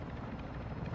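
Helicopter from Call of Duty: Modern Warfare 2 on a SAM sites mission, a loud, close and steady rotor roar with no pauses.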